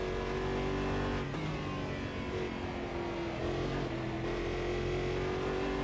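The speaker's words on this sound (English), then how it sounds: "when I'm getting on the throttle, it sounds as if the rears are spinning up" Car engine in the Automobilist racing game revving steadily under throttle with rear wheels spinning up, a continuous loud mid-pitched drone with a brief dip in pitch partway through; no talking.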